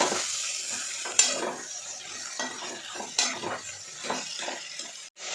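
Five tomatoes frying in a pan for a Kannada pappu recipe: a steady close sizzle with stirring scrapes and occasional clinks of a utensil against the pan, continuing throughout.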